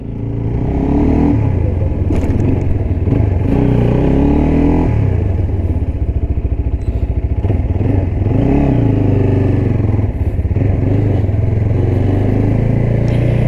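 An Aveta VZR 250 motorcycle's 250cc engine runs loud and close, its throaty idle rising into several revs and dropping back, with mechanical clatter underneath.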